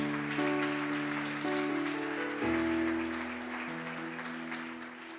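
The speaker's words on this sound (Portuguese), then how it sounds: "você pode aplaudir o Senhor" A church congregation claps together in a sustained burst of applause, heard behind sustained organ or keyboard chords that keep ringing throughout.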